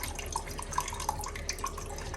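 Water drips and trickles steadily from a toilet tank after a white plastic drain screw is opened during a flush valve replacement, with a few brighter drops plinking into collected water, close and fairly quiet.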